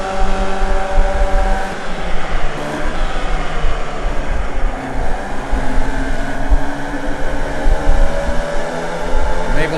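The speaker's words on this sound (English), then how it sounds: "Looks like 2 cars are going to get by me." Race cars in a racing video game, Formula Vee at Summit Point against AI opponents, a loud continuous engine drone with rising and falling whines as two cars pass.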